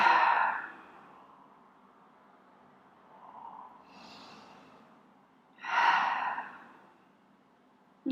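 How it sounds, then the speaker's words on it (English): Long breaths blown out through the mouth during a gentle yoga session, two main exhalations a few seconds apart with softer breathing between, close and quiet. "blow it out through the mouth"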